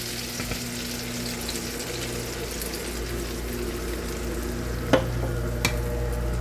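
Pureed tomato cooking down in oil for an apple curry, a steady close simmering sizzle with light stirring and a couple of sharp clinks.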